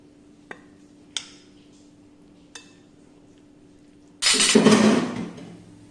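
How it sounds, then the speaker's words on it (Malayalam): Chicken fajita filling with vinegar and kasuri methi mixed in a bowl: three light spoon clinks spaced apart, then a loud, close burst of wet stirring lasting about a second before fading. "ഇനി ഇത് നന്നായി മിക്സ് ചെയ്യാം"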